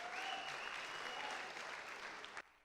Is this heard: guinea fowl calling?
no